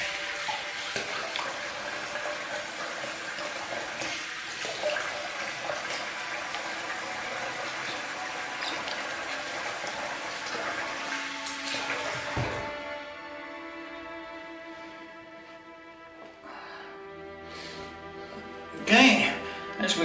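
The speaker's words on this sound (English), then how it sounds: "we'll rinse that off." Running tap water rinses shaving lather off a face after a wet shave, a steady broadband splash for about twelve seconds before cutting off, followed by quieter drips and small handling noises.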